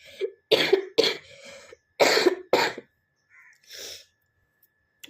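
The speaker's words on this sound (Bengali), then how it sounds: "কাশি প্রচণ্ড হয়ে যায়।" Severe coughing, a run of harsh, close bursts in two clusters, followed by a softer throat-clearing and a faint breath.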